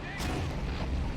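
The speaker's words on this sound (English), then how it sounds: "Both Tigers are blasting away at those approaching enemies." A Tiger tank's cannon fires in the World War II game Men of War: Assault Squad 2, giving one sharp, booming blast near the start with rumbling battlefield noise behind it.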